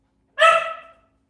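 A single short yap from a small pet dog, close and fairly loud, sharp and over within about half a second, with no one talking.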